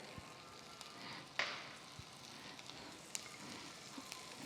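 Garlic sizzling in butter in a pan, a quiet steady crackle with a few sharper pops and spits scattered throughout, no voices.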